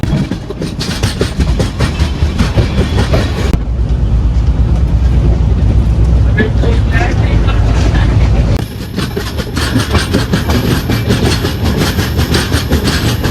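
A passenger train from Hyderabad rolls along with loud continuous rumbling, rhythmic clickety-clack from the wheels and heavy wind buffeting, close and steady throughout with a brief change in the noise midway.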